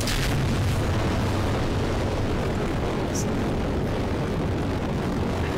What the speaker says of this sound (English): I'm going to throttle maybe like halfway up-ish because of these solid rocket boosters